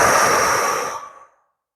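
A deep breath blown out during a body-scan breathing exercise, a single close, loud, airy exhale that fades away over about a second.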